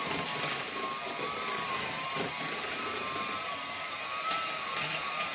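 An electric hand mixer whips mashed potatoes made with garlic, garlic powder and cream, producing a continuous steady motor whine with faint beater churning throughout, close and unbroken, with nobody talking.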